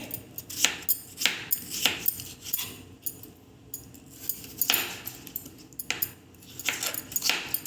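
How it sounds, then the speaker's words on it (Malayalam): A knife slicing peeled potatoes into long strips for an onion-potato vada snack, heard as a series of close, crisp chopping knocks in uneven bursts with short pauses between them and no talking. "ഇനി ഇത് നമുക്ക് മുറിച്ചെടുക്കാം"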